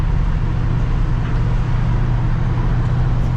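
A 1966 car rolling down the road, its steady low engine and road rumble droning evenly and fairly loud with no breaks.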